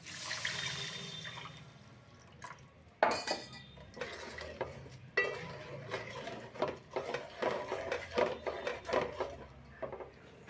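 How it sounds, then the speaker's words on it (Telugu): Tamarind extract poured into a pot of fish curry, a soft liquid splash amid clinking utensil and pot sounds, with several sharper knocks and scrapes following in an uneven rhythm, close by and moderately quiet. "ఇప్పుడు చింతపండు పులుసు పోసుకోండి"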